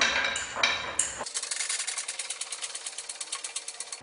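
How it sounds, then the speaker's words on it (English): A jack ratchets up a 2001-2009 EZGO TXT golf cart at the bumper, with regular metallic clicks repeating quickly and evenly after some initial clatter, close by. "now we're going to walk around here to our jack and start jacking it up right at the bumper"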